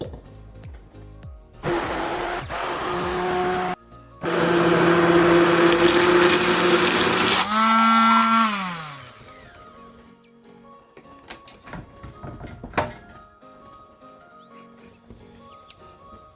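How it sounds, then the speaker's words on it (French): A blender purées roasted vegetables for an African tomato sauce, its motor whirring loudly in two bursts, briefly stopping between them, then winding down to a falling pitch, followed by quiet clatter and faint handling noises. "je vais transférer mes légumes dans le bol d'un mixeur pour pouvoir tous les mixer"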